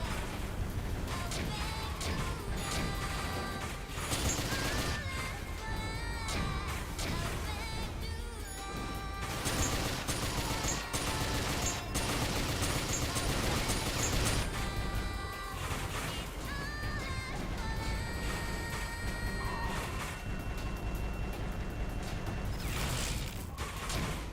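Video game combat with repeated grenade explosions and gunfire, a dense, loud barrage of crashes, bursts and whooshes running continuously throughout with no pause.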